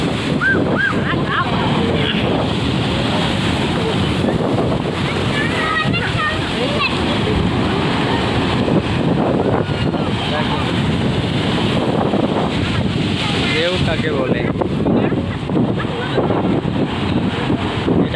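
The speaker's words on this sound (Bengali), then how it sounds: "দেখো পুরো গার্ডওয়াল টুপকে কিন্তু চলে এসছে জল" Heavy sea surge crashing over the guard wall at Old Digha beach during a storm swell, a continuous loud roar of breaking water and spray with wind buffeting the microphone throughout, and people's voices mixed into the din.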